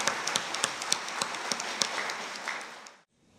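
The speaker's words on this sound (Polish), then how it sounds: "gromkie brawa dla osób, które są bardzo mocno zaangażowane" Audience applause at the Gala Młodych Nieprzeciętnych youth awards gala in Mielec, 2019: a dense, steady wash of many hands clapping with sharp individual claps poking through, fading out quickly near the end.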